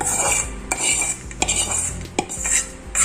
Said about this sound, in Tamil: அந்த சூடு ஆறுற வரைக்கும் இப்படி கரண்டியாலேயே நல்லா கலந்து கொடுங்க